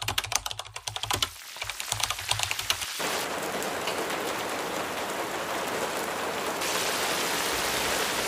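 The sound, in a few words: rain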